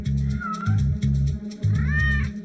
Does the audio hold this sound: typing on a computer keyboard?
no